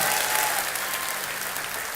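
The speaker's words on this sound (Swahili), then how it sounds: "Tupigie Mama Mwangi makofi sana" Sustained applause from a church congregation rolls on steadily for Mama Mwangi, a dense crowd clapping at moderate volume.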